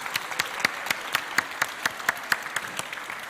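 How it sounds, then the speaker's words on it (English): Applause from a conference audience at a software testing talk, dense clapping with a few sharper, louder individual claps standing out in a regular pattern, continuous for the whole stretch. "This deserves a grand applause."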